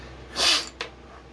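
A short, breathy sniff through the nose, followed by a quick second sniffle, close and fairly soft.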